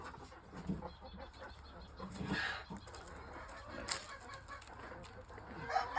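A hen clucks faintly and sporadically at a distance over quiet background noise.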